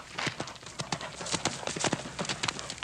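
Horse hooves clip-clop in a steady, close rhythm of sharp repeated strikes as a horse is led for hitching on a Western ranch, with faint voices now and then underneath.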